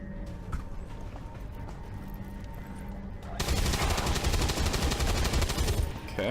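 Rapid automatic gunfire bursts out in XCOM 2 after a few seconds of quieter scattered clicks and ambience, rattling loud and dense until the end.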